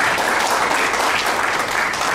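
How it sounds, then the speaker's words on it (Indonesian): A church congregation claps loudly and steadily during a sermon, a thick continuous roar of many hands filling the room evenly from start to finish with no voices on top. "Kasih tepuk tangan yang meriah bagi Tuhan"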